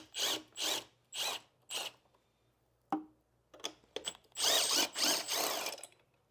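A ratchet wrench loosens 10 mm car battery hold-down bolts, giving short clicking bursts in a stop-start rhythm, close and fairly quiet with brief pauses between strokes.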